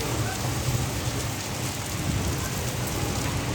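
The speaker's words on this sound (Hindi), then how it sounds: "बहुत तेज बारिश है" Heavy rain driven by strong wind with hail pounding down in Dehradun, a dense, loud, unbroken roar of rain and hailstones hitting surfaces close by.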